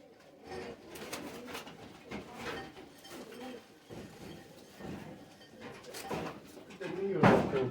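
Soft, low pigeon coos repeat under steady talking, with a louder burst of voices near the end.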